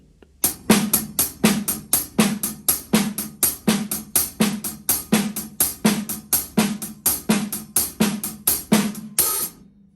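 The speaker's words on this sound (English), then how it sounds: "We're going to fill that second partial in with the ghost note on the snare" Drum kit plays a swung shuffle groove, with soft snare ghost notes filling the middle partial of each triplet between louder accented hits, steady and close for about nine seconds with no voices.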